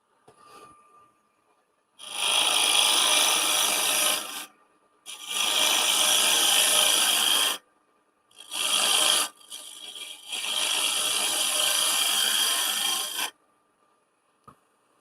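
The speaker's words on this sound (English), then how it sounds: "you can see I'm cutting with the lower half of the scraper" A scraper cuts face-grain wood spinning on a lathe, giving four loud, steady rasping bursts of several seconds each, separated by short silences.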